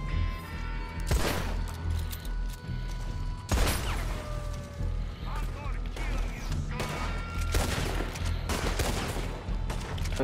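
Gunfire from the Red Dead Online video game during a bounty hunting mission, with repeated sharp shots and bursts across the whole stretch over a dense game soundscape, and someone talking now and then.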